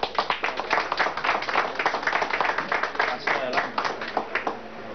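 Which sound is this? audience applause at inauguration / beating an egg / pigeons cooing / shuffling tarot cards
audience applause at inauguration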